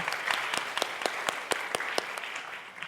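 Applause from the audience at the closing ceremony of the 16th IAVE volunteering conference in Bangkok: a steady, fairly quiet round of clapping with sharp individual claps standing out, heard from a distance across the hall.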